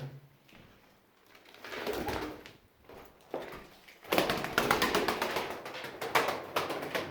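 Soft pigeon coos and rustling close by, with fluttering wing flaps and scuffling growing louder in the second half.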